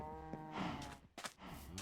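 Minecraft cows on a survival world farm give low, drawn-out moos under a faint background, with a couple of sustained calls and short bursts of crunchy game noise between them.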